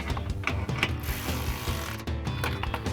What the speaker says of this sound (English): we're gonna grab our ratchet with our 13mm socket and the 13mm wrench and tighten our bolt that we just put through our brackets